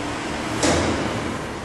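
A stuck lift door on an old H Moult lift being pushed open by hand, heard as a short scraping slide that swells briefly over a constant loud hum of machinery nearby.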